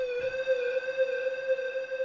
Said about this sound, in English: I'll either pitch bend up or pitch bend down just before I release the note